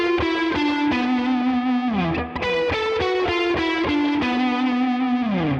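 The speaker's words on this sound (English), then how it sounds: "Then the lick comes to an end with this descending blues scale run." An electric guitar with distortion and chorus effects plays a descending blues scale run, a series of clearly picked notes stepping downward, loud and alone.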